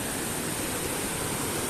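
Dudhsagar waterfall in Goa, India, roars as a dense, unbroken rush of falling water, loud and constant, with no voices.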